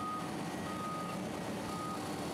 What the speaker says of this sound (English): the sound of work trucks backing up